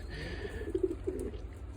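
Pigeons coo softly in a dovecote, a few short low calls clustered near the middle, faint against a steady background hum.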